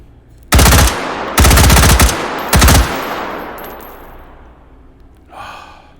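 An AR-15 rifle fires in the video game H3VR in three loud, close bursts of rapid automatic gunfire, each followed by a long echoing tail, with a faint breathy sound near the end.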